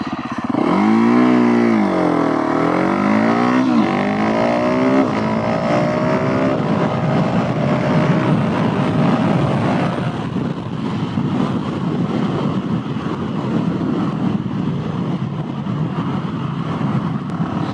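A Husqvarna 701SM motorcycle launches from 0 to 60, its single-cylinder engine revving hard through quick rising gear sweeps before settling into a loud, steady roar buried in rushing wind noise.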